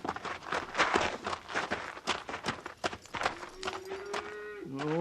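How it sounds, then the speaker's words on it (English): Cattle on the move, with hooves clattering and thudding in a rough, uneven rhythm, then a cow gives a long, low moo rising at the end, close and clear over the herd noise. "Oh, shut up, you darn maw cow."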